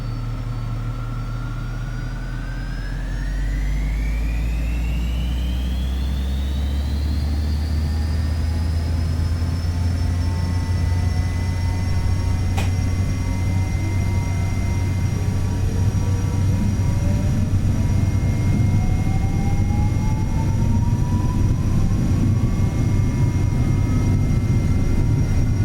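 A Learjet 35A takes off in Microsoft Flight Simulator 2024. Its jet engines spool up into a loud, sustained roar, and a whining tone climbs steadily as thrust builds through the takeoff roll.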